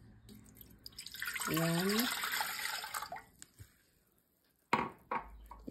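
Water poured from a container into flour for malunggay (moringa) pandesal dough, a broad rushing splash building and then trailing off over a couple of seconds, followed by a few sharp knocks as a person speaks briefly.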